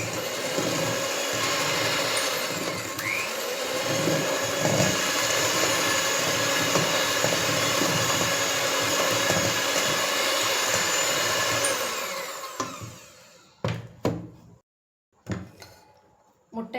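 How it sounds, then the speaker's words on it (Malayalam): Electric mixer beating eggs and sugar for a soft cake, a steady close whirring drone that runs continuously for about twelve seconds, then stops, leaving a few clinks and knocks of the bowl. "മുട്ടയും പഞ്ചസാരയൊക്കെ നന്നായിട്ട് ബീറ്റ് ആയിട്ടുണ്ട്."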